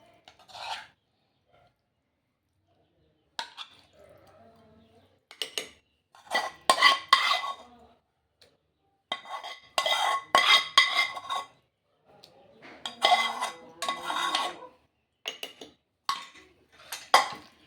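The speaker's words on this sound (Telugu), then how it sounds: "ఇది మెల్లగా నూరుకోవాలండి, కళ్ళలో తిప్పుతుంది." Green chillies, tomato and coriander are pounded and ground in a mortar for a chutney. Close, intermittent bursts of hard knocking and scraping come in uneven clusters separated by short silences.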